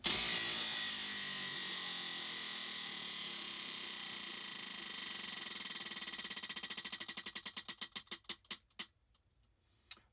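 A prize wheel spins with dense rapid clicking that gradually slows into distinct, widely spaced ticks before stopping, loud and close with no talking.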